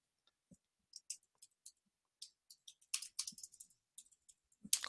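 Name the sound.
typing a task title on a computer keyboard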